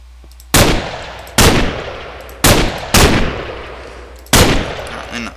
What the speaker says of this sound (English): Actually, can gunfire go through this?